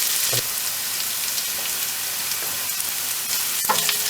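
Green chilli, garlic and ginger fry in a curry pan, a loud, close, continuous sizzle with a few sharp spits and the scrape of stirring, and no voices.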